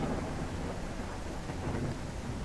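A thunderstorm in the survival video game Mist Survival: heavy rain hisses steadily while low thunder rolls continuously underneath, loud and enveloping, with no voices.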